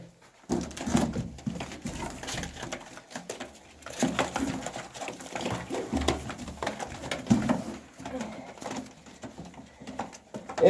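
Pigeons coo steadily inside a coop of Turkish tumbler pigeons, with soft repeated calls, wing flutters and light pattering close by and no one talking.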